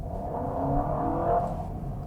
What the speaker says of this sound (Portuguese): Ouviu o motor entrando?